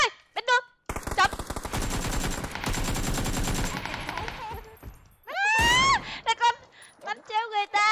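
Rapid automatic gunfire in a shooter video game bursts out in a long sustained volley near the start, followed by a loud screeching or groaning cry and excited voices talking over the action.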